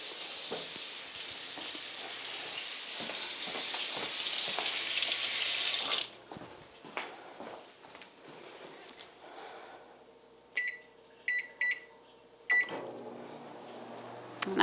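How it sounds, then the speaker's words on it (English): A microwave oven hums steadily for several seconds, followed by quieter clicks and handling noises, then a short run of beeps and another hum, all close by with no talking. "I am going to go ahead and run the microwave"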